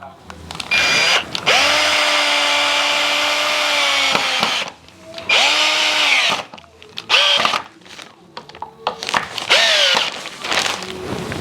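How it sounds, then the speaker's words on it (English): A power drill drives screws into wooden workbench legs made from recycled wood: one long whining run, then several shorter bursts of the motor revving up and stopping, loud and close. "when I can get a drill and drill through this and make pre-made holes"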